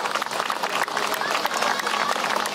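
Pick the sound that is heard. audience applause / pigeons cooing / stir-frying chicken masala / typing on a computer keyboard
audience applause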